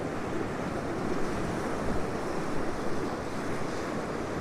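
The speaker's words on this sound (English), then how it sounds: "I'm just kind of watching these waves as they crash over the rocks." Ocean waves crash over rocks at Currumbin Beach, Queensland, a continuous loud surf wash with wind buffeting the microphone and no voices.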